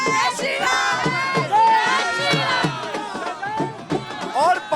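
Crowd cheering and shouting at a public celebration for the Ayodhya Ram Mandir consecration rituals: many voices yelling and chanting together, loud and close, with excited overlapping shouts and chatter in waves throughout.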